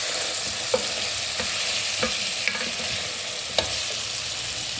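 A spoon stirs green and yellow pepper into pepper chicken gizzards frying in a pan, with a steady close sizzle and a few sharp scrapes and clicks against the pan.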